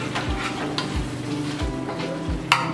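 Spoon stirring dal with meat in a cooking pot, a rhythmic scrape roughly every second over a soft background sizzle, close and steady, with a sharp clink near the end.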